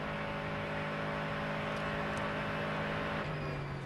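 Race car engine at the 2006 Rolex 24 at Daytona, a steady high-pitched droning note holding loud and close, then shifting pitch briefly near the end against constant circuit noise.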